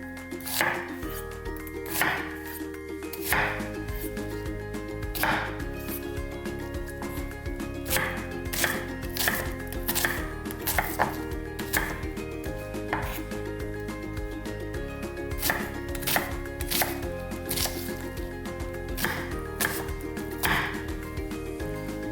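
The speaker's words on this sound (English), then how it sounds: "So we've peeled, washed the onions, so now we're gonna chop them" Kitchen knife chopping peeled onions into small cubes on a board, a run of crisp, rhythmic taps in quick bursts with short pauses between, close and clear over soft background music.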